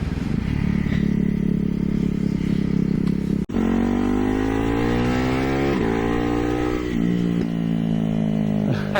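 A Ducati Hyper Motard's engine drones loudly while riding, its pitch climbing and falling through gear changes with a brief cut midway, close and continuous under wind.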